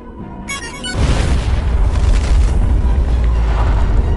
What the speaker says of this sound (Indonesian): Dalam sekejap, banyak pasukan Antonio yang tewas karena ledakan tersebut